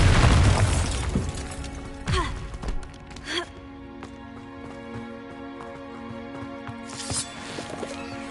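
A Bombarda spell goes off in a Hogwarts video game: a heavy booming blast at the start, followed by a couple of sharp bursts, then a sustained musical drone with a faint sigh-like voice.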